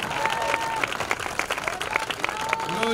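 Church congregation clapping in praise, a fairly quick, even rhythm of hand claps sustained throughout, with a voice briefly audible over it at moderate distance.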